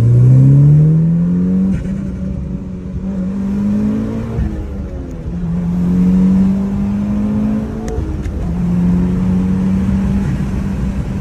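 A Mitsubishi Lancer Evolution 9 accelerating hard, its engine note climbing through several gear changes, with brief dips between rising pulls, loud and close with no talking.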